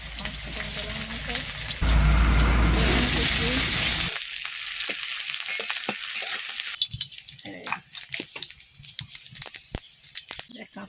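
Onions drop into hot oil and fry for a Bengali fish curry, a loud rushing sizzle that surges early, then settles into a crackling, spattering fry with scattered sharp pops.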